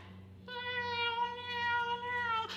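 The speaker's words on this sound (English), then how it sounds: "First, the cat." A cat gives one long, drawn-out meow, clear and close, rising out of a quiet background with a faint low hum beneath it.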